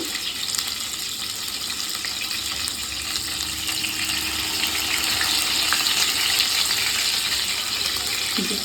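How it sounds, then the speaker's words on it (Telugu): Masala-stuffed eggplants frying in hot oil for gutti vankaya, a continuous dense sizzle that swells slightly louder partway through. "అన్నీ ఇదే విధంగా అన్నిటి మసాలా నింపుకొని నూనెలో వేస్తాము."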